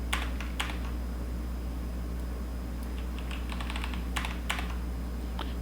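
Computer keyboard keys clatter in short irregular bursts of taps while someone works in Photoshop, close and fairly quiet, over a steady low fan hum with no talking.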